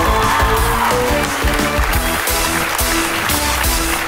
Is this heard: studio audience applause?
yes